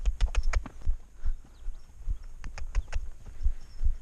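A horse named Szara clip-clops along on a ride, hooves striking in a steady repeating rhythm, close and distinct with rider movement around them.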